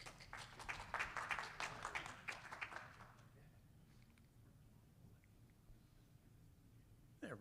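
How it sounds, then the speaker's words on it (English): An audience at a planetarium conference paper session claps in a short welcoming round of applause, a dense burst that fades out after about three seconds, leaving a quiet room with faint shuffling. "could we have a welcoming round of applause for Star Guy Gary?"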